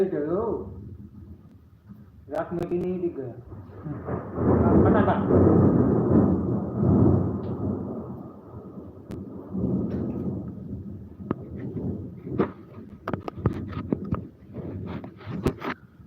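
Thunder rolling during heavy rain, with a long, loud rumble swelling in the middle, then sharp cracks and rain patter toward the end, and someone talking over it.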